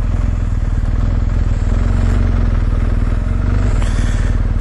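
A 2019 BMW R 1250 GS motorcycle engine churns loudly and steadily while riding, a dense low throb with a faint clattery texture throughout and no talking.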